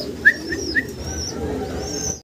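Pigeons coo at a pigeon farm, with several short, close cooing calls early on, then softer chirps and a steady background of other birds.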